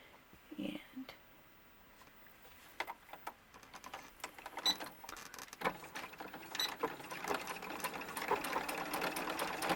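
A sewing machine stitches a seam on a small doll bustier, running in irregular short bursts of rapid ticking that build into a steadier whirr, with soft nearby talk in between.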